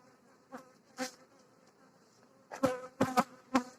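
Honey bees at a hive buzz in short bursts, a few faint passes early, then several louder, close buzzes clustered near the end.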